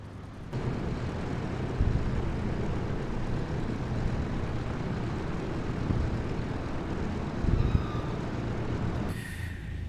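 A Douglas DC-3 taxis in a flight simulator, its propeller engines giving a loud, steady drone that swells slightly a couple of times. The drone carries on almost without a break, with no talk.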